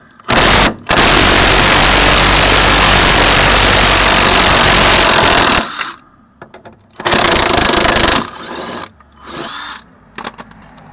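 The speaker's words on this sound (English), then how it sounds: "We've got the old Sealy gun on there" A Sealy impact gun hammers loose the 19mm bolts holding a car shock absorber: one long loud burst of about five seconds, then a shorter burst and a brief final rattle, close up.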